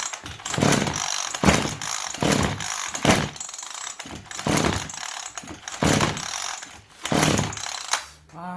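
A small engine with a worn flywheel being cranked without firing, loud repeated pull-start bursts in an uneven rhythm, about seven strokes close by, with no talk.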